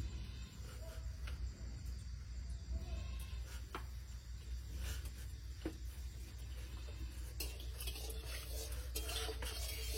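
Whole bay leaf, cinnamon, cardamom, clove and cumin sizzling in oil for a duck curry, a faint steady fry with scattered soft clinks and stirring taps, quiet and close.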